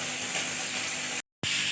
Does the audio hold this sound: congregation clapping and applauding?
no